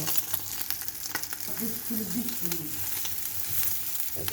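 An egg fries in a pan until it turns reddish-brown, cooked as a breakfast snack for a student, giving a steady close sizzle with occasional stirring scrapes and no talking.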